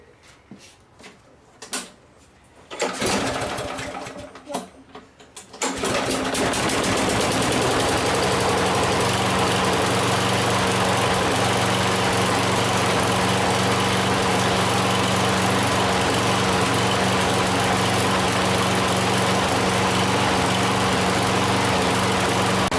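A lawn mower found by the roadside, with a dirty air filter, coughs through a few pull attempts before its small engine catches and settles into a loud, steady idle that runs on alone.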